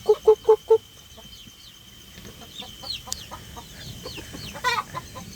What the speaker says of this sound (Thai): โอ้ยอันนี้ไก่ตีนะเนี่ย